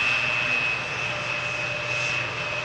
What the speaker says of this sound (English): Embraer 170, having arrived from Lyon